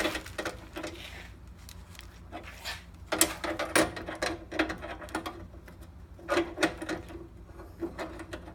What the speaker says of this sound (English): I just need to tighten it on there